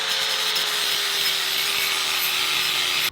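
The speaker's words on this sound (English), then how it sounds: "beveling the edges, taking down the tube to bare metal," Steel tube for a drift car's anti-intrusion bars is ground and sanded to bare metal with a power tool, a steady loud abrasive hiss and whine that runs continuously up close before cutting off at the end.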